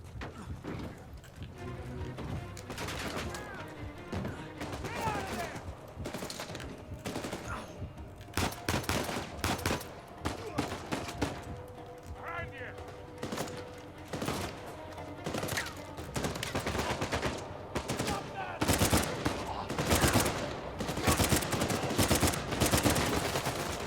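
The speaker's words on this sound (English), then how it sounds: "Who the heck is shooting at me?" Uncharted 4 gameplay is full of rapid gunfire, with dense bursts of sharp shots and automatic fire that crackle repeatedly at close range and build in intensity, while a player's voice occasionally cuts in.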